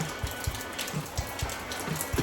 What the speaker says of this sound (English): Peeing down today.